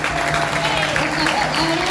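Church congregation applauding during a Spanish-language sermon, a steady wash of clapping at close range filling the whole moment without a break.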